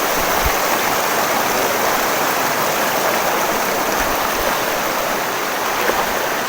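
Clear river water rushes and flows close by, a loud, constant broadband wash with no voices over it.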